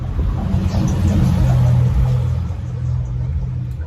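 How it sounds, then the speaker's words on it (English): A car passes by on a nearby road, heard as a steady low rumble that swells slightly and then eases off, close and moderately loud with no talking. "there's a car crossing right there"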